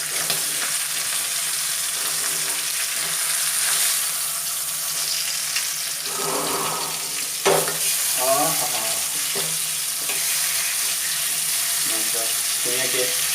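Chicken tandoori sizzling steadily in a hot pan, loud continuous frying hiss with scraping and clattering as the pieces are turned over.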